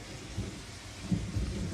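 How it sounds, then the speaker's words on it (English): A thunderstorm in the horror film The Wretched, with rain pouring down steadily and low rumbles of thunder rolling in and swelling at moments, heard alone without voices. "You see the rain coming down."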